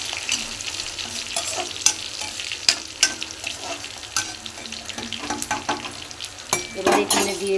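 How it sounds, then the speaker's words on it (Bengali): Ginger, cumin, dried and green chillies, cinnamon, cardamom and bay leaves fry in a wok with a steady close sizzle, broken by frequent sharp scrapes and clinks of stirring. No one speaks. "আদা কুচি, জিরে, শুকনো লঙ্কা, কাঁচা লঙ্কা আর গরম মশলা, দারচিনি, এলাচ, তেজপাতা কড়াইয়ে দিয়ে একসঙ্গে ভেজে নেব"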